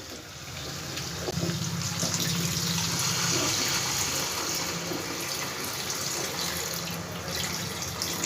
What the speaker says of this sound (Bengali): আমি মশলা ধোয়া জলটা আমি দিয়ে দিলাম।